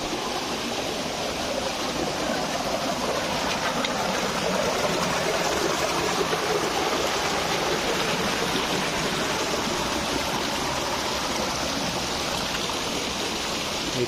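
Steady rushing of a cave waterfall in Odisha, India, a continuous broadband roar of falling water with no talking, constant and close throughout.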